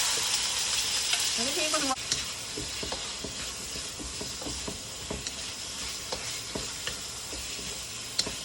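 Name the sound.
seasoned chicken sizzling in sesame oil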